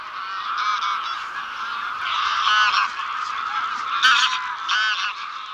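Large flocks of migrating geese honk continuously over the wetlands of Villafáfila in Zamora, Spain, a dense, layered chorus of overlapping calls that swells and peaks in several places without pause.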